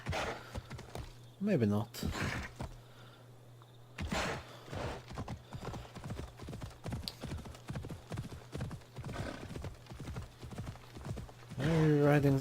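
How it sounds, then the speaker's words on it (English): Horse hooves clip-clop steadily at a riding pace in Assassin's Creed Odyssey, a brief whinny near the start and end, with someone talking over the hoofbeats throughout. "I can ride away from here. I'll probably ride this horse off a cliff and die."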